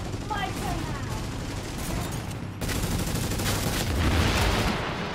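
Sustained gunfire from The Division video game, with dense overlapping bursts and booms forming a continuous loud barrage that grows heavier in the second half.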